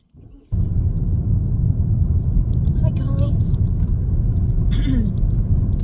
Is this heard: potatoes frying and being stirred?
no